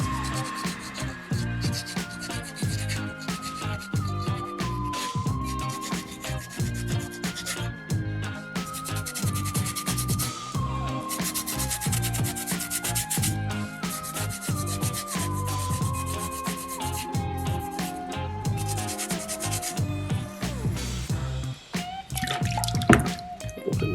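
A soapstone eagle carving is wet-sanded with folded sandpaper in steady, continuous scrubbing strokes, close and fairly loud, with dripping water and music playing underneath.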